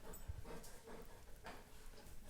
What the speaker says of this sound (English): My puppy is here and she wants to